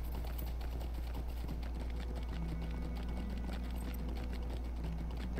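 Horse hooves clip-clop steadily in the online game LOTRO (Lord of the Rings Online), a continuous mid-level trotting rhythm over a constant low hum of background game music and ambience.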